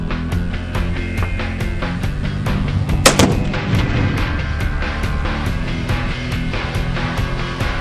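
Rapid gunshots ringing off steel star targets at a shooting range, a steady string of sharp cracks with metallic pings blending into a dense, continuous barrage.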